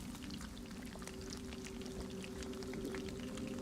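Water gurgles and pours steadily as a character drinks in the survival video game DayZ, a continuous quiet splashing with small droplet-like ticks and a low hum beneath, no speech.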